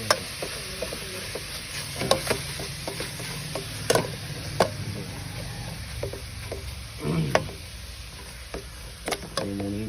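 Chicken and pounded curry paste sizzle in a hot pan while a utensil scrapes and clacks against it in irregular stirring strokes, close and moderately loud.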